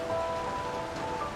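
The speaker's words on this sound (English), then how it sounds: "That's just what I needed, was some damn rain on my metal roof." Rain falls on a metal roof as a steady, even hiss of dense drumming that fills the short stretch without a break, fairly close and moderately loud.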